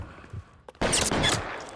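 Gunfire erupts in the L.A. Noire video game: after faint early pops, a loud sustained burst of close rapid shots fills the second half of the moment.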